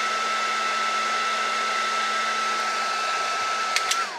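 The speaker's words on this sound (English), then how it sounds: "Turn off your heat gun" A heat gun blowing on a plastic part of a 1/16 scale Takom M4A3E8 Sherman tank model kit, a loud steady whooshing fan drone with a faint whine, a couple of small clicks near the end.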